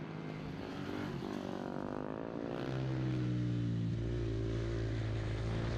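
Supermoto motorcycles race on a track in Sparta, Greece, their engines whining and rising in pitch as one passes, ending in a loud, steady drone, with no talking.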